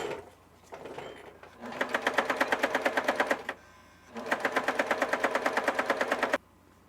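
A Pfaff sewing machine set to a wide stitch width and short stitch length runs in two rapid, even bursts of stitching, loud and close, with a brief pause between them.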